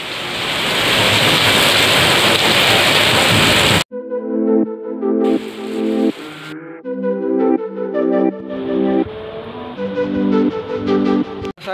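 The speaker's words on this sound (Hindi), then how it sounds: "देखिए कितनी तेज बारिश आ रही है।" Heavy rain pours down as a loud, dense wash of noise for about four seconds, then cuts off abruptly and music takes over for the rest.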